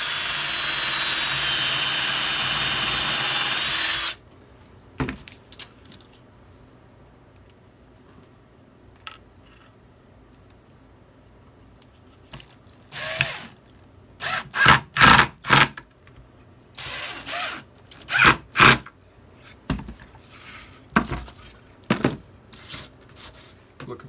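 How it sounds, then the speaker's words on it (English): A drill bores an anchor hole in wood while building a classic wooden bird feeder, giving a steady, close whir for about four seconds, followed by quiet handling and a run of sharp knocks and clatters. "again, drilling an anchor hole here."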